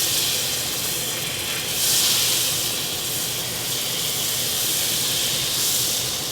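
Butter melts in a hot pan over leftover pork drippings and creole seasoning, giving a steady, loud hiss and sizzle that swells briefly and carries on without pause.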